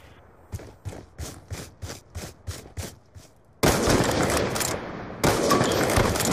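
Gunfire in a Call of Duty match played by FaZe players: a run of nine evenly spaced single shots, then a sudden loud, dense burst of continuous firing and clatter that stays heavy to the end.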